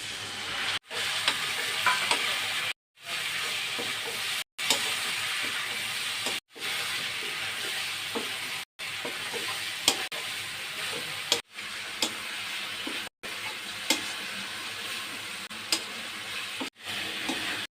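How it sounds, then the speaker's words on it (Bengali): Fried potatoes are stirred with spices in a hot pan for katla fish curry, giving a loud, steady sizzle and hiss with repeated scraping strokes of the spatula. "এখন আমি আলুর মধ্যে মশলা দিয়ে কষিয়ে নেব"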